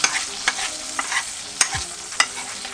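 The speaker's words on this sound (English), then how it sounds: "so we got our fish going back again. We're gonna start basting." Chilean seabass frying in hot butter in a pan while being basted, a steady close sizzle broken by sharp spoon clinks against the pan at irregular intervals, loud and without talk.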